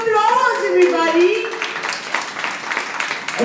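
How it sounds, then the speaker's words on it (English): Audience round of applause for an author at a book event, starting under a voice and then swelling into a dense burst of clapping from many hands that carries on to the end. "Can we give her a round of applause, everybody?"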